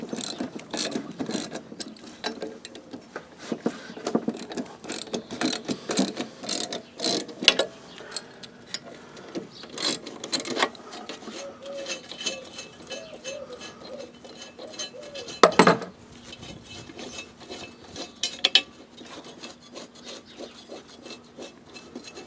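A ratchet wrench loosens the blades on a Honda lawn mower, with rapid clicking pawl bursts repeating in short runs between scrapes and metallic clanks, close and fairly quiet.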